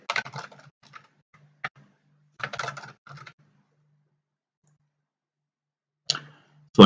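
A password goes in on a computer keyboard during a Kali Linux install in VirtualBox: short, quiet bursts of key clicks separated by pauses, with a final louder tap at the end.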